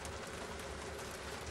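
Rain falls on a sailboat, a faint, steady hiss of drops pattering on the surface with no voices.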